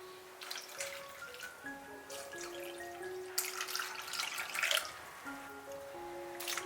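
Water poured over dried shiitake mushrooms, dried shrimp and dried scallops set to soak: soft splashing and trickling that swells briefly in the middle, over light background music.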